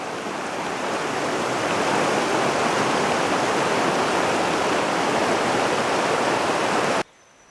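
Steady rushing water of a shallow, fast stream, loud and close, with a continuous broadband roar that cuts off abruptly near the end.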